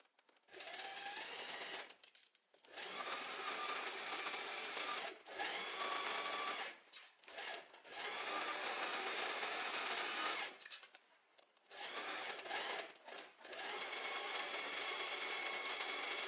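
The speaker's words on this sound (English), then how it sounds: "now we're just going to sew in one big circle." A normal home sewing machine stitches a jersey fabric top in a circle around the neckline, running in several bursts of steady motor whirring separated by short pauses, close and alone.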